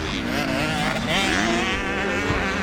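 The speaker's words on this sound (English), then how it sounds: "It's 450 Yamaha there" Yamaha 450 motocross motorcycle engine revving loudly and steadily with rising and falling pitch as the rider accelerates on a motocross track, close and continuous throughout.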